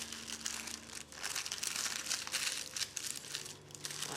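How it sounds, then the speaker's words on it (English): Baking paper crinkles and rustles continuously as it is folded over a fruitcake tin, a close, steady crumpling with a faint low hum underneath and no talking. "you're going to fold the paper over"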